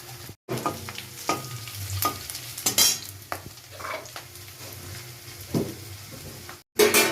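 Panch phoron spices drop into hot oil with lightly browned onions, crackling and sizzling while a spoon scrapes and clinks against the pan in scattered bursts, fairly quiet and close, with brief silent gaps.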